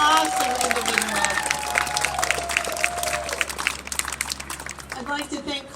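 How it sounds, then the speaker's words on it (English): A graduation audience applauds the class of 2021, a moderate wash of clapping and crowd noise with voices mixed in, fading toward the end. "can we have a round of applause for the class of 2021?"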